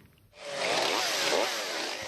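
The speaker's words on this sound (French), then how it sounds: "leur tronçonneuse devient leur outil de création" A chainsaw revs up sharply and runs at a loud, steady whine with slight pitch wavering as it bites into a tree trunk, close by, at an outdoor wood-carving symposium in Foussais.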